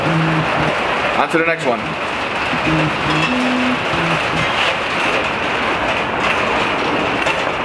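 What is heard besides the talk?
heavy rain pouring outside a closed garage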